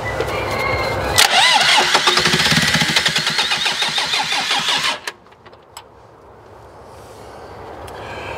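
A 40-year-old telehandler engine cranks briefly, catches and roars at high revs, then drops off abruptly to a low rumble and quiet outdoor background, heard up close.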